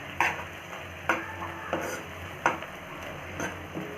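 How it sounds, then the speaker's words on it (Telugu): A watery mixture stirred in a pan with a utensil, with a spoon or ladle knocking against the pan in sharp, evenly spaced clinks over a faint continuous sizzle. "సో ఒకసారి కలుపుకుందాం."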